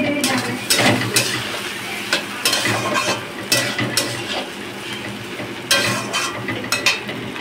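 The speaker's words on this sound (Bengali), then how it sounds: "ঘি দিয়ে ভালো করে ভাজা করে নিচ্ছি" Rice and lentils fry in ghee with cumin and bay leaf in a pot. A continuous sizzle sits under repeated scraping and clinking of a metal spoon stirring against the vessel, close and fairly loud.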